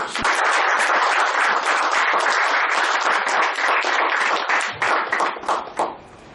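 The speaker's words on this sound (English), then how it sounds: "I would now like you to welcome with a roaring applause Shruti Pandit" A crowd claps loudly and continuously to welcome a speaker at a speaking club event, dense applause that holds steady before thinning to scattered claps and fading out at the end.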